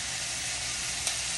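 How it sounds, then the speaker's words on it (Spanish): Sofrito seasoned with Goya adobo sautés in a pot with a steady, dense hiss of sizzling oil, broken only by one small clink of stirring near the end. "Esto lo sofreímos alrededor de unos 3 o 4 minutos"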